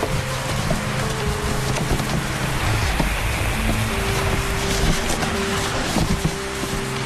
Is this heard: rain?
yes